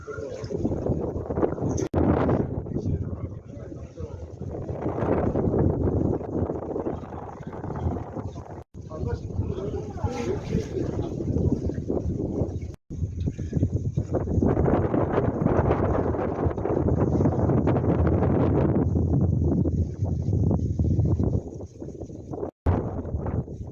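Strong wind buffets the microphone in loud, continuous gusts at an open-air mineral hot spring on Seokmodo Island, South Korea, with a few brief dropouts.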